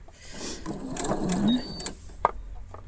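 A sewing machine sounds its low-bobbin-thread alert, a close electronic tone and motor whir with a sharp click near the end, under faint background noise.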